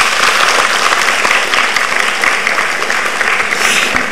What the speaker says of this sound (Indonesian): Beri tepuk tangan Bu Citra.